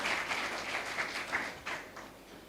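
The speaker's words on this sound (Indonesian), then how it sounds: "Berikan tepuk tangan yang meriah buat Tuhan" A church congregation gives a faint, somewhat distant round of dense, continuous applause.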